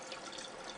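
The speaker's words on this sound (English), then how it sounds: "Rinse out the test tube," Tap water runs steadily while a test tube is rinsed during setup of a water ionizer, a short continuous splashing rush with no talk.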